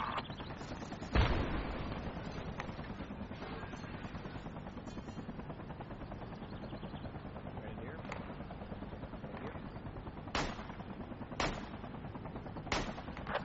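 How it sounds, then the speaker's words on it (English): Gunfire from a military shooter game crackles in scattered sharp bursts over a steady helicopter-like drone, with a few loud shots standing out near the end while the player is under fire. "I'm getting shot at."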